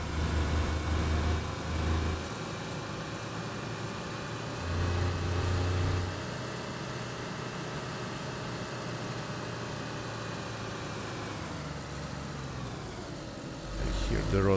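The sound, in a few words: vehicle engines running in the video game DayZ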